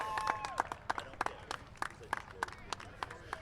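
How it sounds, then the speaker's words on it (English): Scattered, sparse hand claps from a small crowd at a speedway's season-ending victory lane for the race winner, uneven and moderately distant, with people talking faintly underneath. "how about a big round of applause"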